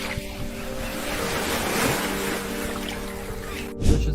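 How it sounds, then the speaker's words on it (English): Steady rushing water like surf or waves fills the clip, a continuous broadband wash with a low hum underneath and a brief louder burst near the end, played to lure a hamster toward a large water bowl. "sounds of water."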